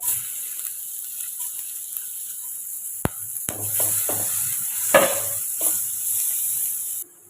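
Curry leaves and chopped onion go into a hot pan for an oil-free snack, bringing a sudden crackle and steady sizzle with stirring scrapes, close and fairly loud.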